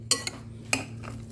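A utensil clinks and scrapes against a bowl while tuna salad ingredients with coriander and mint are mixed, giving three or four quick, close taps over a low steady hum.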